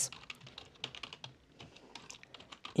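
Fast, irregular clicking of a computer keyboard as Python code is typed, a close, dense run of keystrokes with small pauses and no talking.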